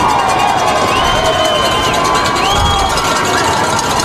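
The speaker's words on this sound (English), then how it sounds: "Eagles crowd making some noise." A high school football stadium crowd cheering and shouting at a game against Faith Lutheran in Las Vegas, a loud continuous roar with whoops and whistles rising over it.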